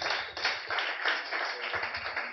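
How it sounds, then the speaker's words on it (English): Audience applause for a comedian at a wine cellar comedy show, a steady burst of many hands clapping at moderate volume, close and continuous for a couple of seconds. "Let's give a big hand for Steve Thomas."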